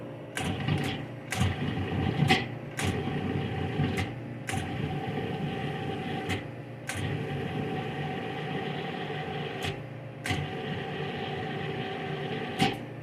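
A food processor pulses chocolate loaf dough with butter in short repeated bursts, each buzzing whir broken by sharp clicks as it starts and stops, close and loud with no speech.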